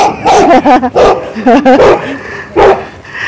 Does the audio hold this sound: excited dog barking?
yes